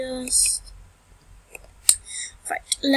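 Keyboard typing during a shopping game session: scattered, sharp key clicks come in small bursts between breathy whispers and soft talk.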